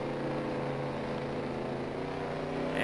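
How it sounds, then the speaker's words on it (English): A tuned race car engine in the video game Dirt Track Racing 2 drones steadily at high revs, a loud continuous buzzing hum with no talk over it. "I mean, the car sounds faster, which is kind of the key thing."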